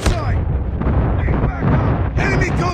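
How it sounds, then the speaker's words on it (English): Airstrike explosions in the Call of Duty Mobile video game, with loud, dense booming blasts that continue without a break, layered with rumbling and crackling debris and a fresh burst near the end. "Friendly airstrike incoming."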